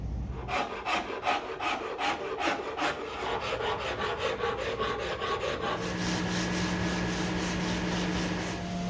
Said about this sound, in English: I love using this spindle sander